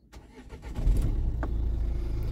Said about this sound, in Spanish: Voy a encender el coche para que veáis los kilómetros que tiene.